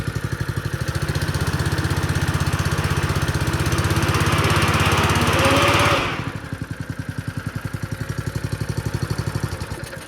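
A small engine on a Crust Buster seed tender runs steadily nearby with a rapid, buzzing putter, loud and rough at first before the pitch drops and it settles into a lower, even idle chug.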